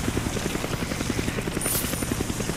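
A helicopter in the video game Resident Evil 5 gives off rapid, rhythmic rotor chopping that stays steady throughout. It sounds moderately close and is heard without talk.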